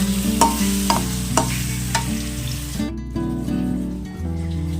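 Spice paste sizzles steadily in a pan while being sautéed for a Bengali cabbage dish, with repeated scraping stirs of a spatula over a constant frying hiss, close and fairly loud, no talking.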